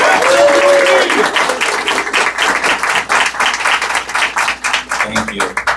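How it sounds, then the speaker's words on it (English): Audience applause at a Merrimack County Attorney debate, a sustained wash of clapping from a room full of people that stays loud at first, then thins and tapers toward the end. "Let's give Lynn another round of applause."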